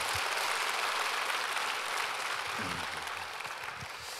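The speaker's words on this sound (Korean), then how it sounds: "우리 박수로 환영하도록 하겠습니다" A church congregation applauds to welcome guests at a revival service. The clapping is soft and continuous, fading slightly toward the end, with faint low thumps and murmurs beneath it.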